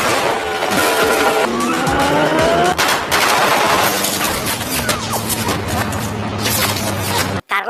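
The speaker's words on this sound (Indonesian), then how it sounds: "Carlos akhirnya berhasil kabur dengan Lola yang sempat terkena tembakan" Intense gunfire in an action film scene, rapid bursts of shots and crashes filling the whole stretch loudly with barely a pause, mixed with clattering impacts and cut off abruptly at the end.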